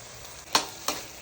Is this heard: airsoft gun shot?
no